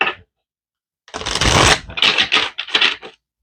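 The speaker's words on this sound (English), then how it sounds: "let's give it one more good shuffle" A tarot deck is shuffled close up in quick riffling bursts, one long rustling run followed by several shorter flicks, loud and alone between pauses.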